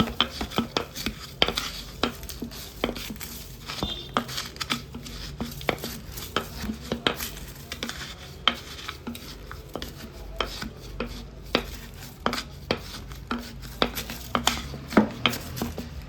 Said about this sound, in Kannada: ಸ್ವಲ್ಪವೂ ನೀರಿನಂಶ ಇಲ್ಲದ ಸೌಟಲ್ಲಿ ಚೆನ್ನಾಗಿ ಮಿಕ್ಸ್ ಮಾಡ್ಕೊಳ್ಳೋಣ